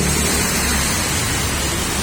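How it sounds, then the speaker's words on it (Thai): Heavy rain pours down in a dense, continuous hiss with no pauses, loud and close throughout. "ฝนตก"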